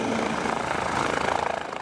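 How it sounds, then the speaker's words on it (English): Helicopters fly over the Antarctic ice, their rotors giving a steady, fairly loud chopping drone with a fast, even pulse. "After 3 hours on the ice, the helicopters return"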